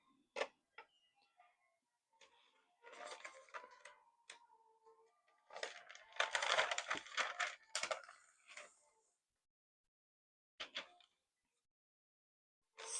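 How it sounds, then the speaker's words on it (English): Playing cards flipped and laid down one after another in a quiet room: scattered short crisp slaps and riffling bursts, fairly close, with silent gaps between them. "We'll flip a few cards"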